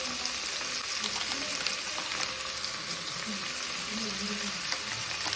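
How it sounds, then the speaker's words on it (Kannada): Ginger garlic paste and cloves fry in a pan with a dense, continuous sizzle throughout, close and fairly loud, broken only by faint stirring. "ಲವಂಗ ಹಾಕಿದ್ದು ಫ್ರೈ ಮಾಡ್ತಾಯಿದ್ದೀನಿ"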